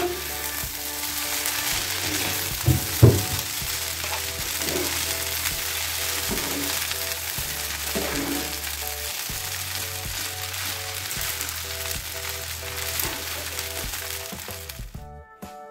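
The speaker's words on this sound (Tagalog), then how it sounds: "ilalagay ko na yung scrambled egg at saka yung Chinese sausage, bilbao" Scrambled egg and Chinese sausage fry in a hot pan, a steady close sizzle running throughout with a few sharp crackles and pops near the start and faint clinks of stirring.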